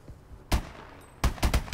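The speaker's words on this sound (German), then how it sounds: "Ich hab nicht gesehen, woher die Schüsse kamen." Gunfire from the Call of Duty Advanced Warfare video game: one sharp loud shot, then a quick cluster of three or four close bursts after a quiet gap, with faint ambient noise between.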